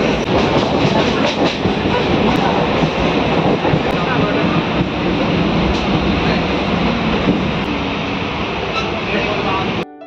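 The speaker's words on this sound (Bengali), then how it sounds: "এবার বিবেকানন্দ সেতুর ওপর দিয়ে আমাদের ট্রেনটা যাচ্ছে।" Passenger train crossing the Vivekananda Bridge near Dakshineswar, a loud continuous roar of wheels and rattling carriages with rhythmic clatter, heard from on board, with voices mixed underneath.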